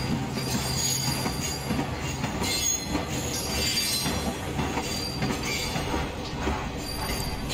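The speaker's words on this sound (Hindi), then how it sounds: "जैसे ही हमारी ट्रेन लूप लाइन पे एंटर होती है" Freight train of BCNA wagons rolling into a loop line in the Open Rails train simulator, with a steady rumble of wheels on rails and intermittent flange squeal throughout, no voices.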